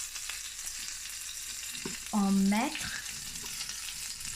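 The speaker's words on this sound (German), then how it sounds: "Now we put the butter onto the pan." Butter sizzles in a frying pan while a chicken sandwich is cooked, a steady soft hiss running throughout beneath a brief spoken phrase.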